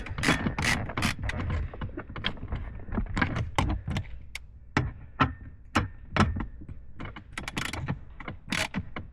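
A ratchet screwdriver clicks in quick, uneven bursts while working on a C5 Corvette steering column, its close, sharp ratcheting repeating across the clip with short pauses.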